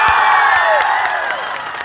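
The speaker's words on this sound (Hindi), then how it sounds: "इनके लिए जोरदार तालियां बजा रहे।" Loud applause from a large crowd at a tribal rally in Sehore, Madhya Pradesh, with cheering and whistles over sustained clapping that fades slightly toward the end.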